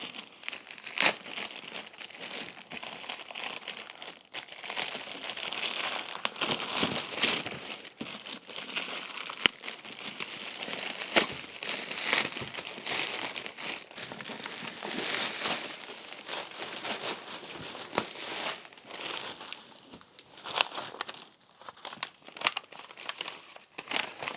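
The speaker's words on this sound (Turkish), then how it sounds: "Önce Adidas poşetini nereden açalım? Şuradan açalım." A crinkly plastic Adidas shoe bag is opened and handled, giving loud, continuous crackling and rustling with sharp tearing bursts throughout.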